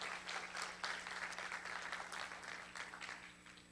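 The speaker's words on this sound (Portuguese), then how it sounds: "Dê uma salva de palmas ao Senhor." Applause from a church congregation, a fairly faint, close burst of many hands clapping in uneven surges over a steady low electrical hum.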